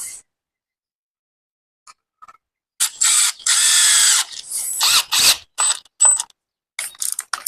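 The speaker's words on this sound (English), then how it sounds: "Turn the torque way down on this because we're just going into plastic there." A power drill with its torque turned down drives screws into plastic while mounting a Bissell Garage Pro vacuum, giving several short whirring bursts with ratcheting clutch clicks between brief pauses, close and clear.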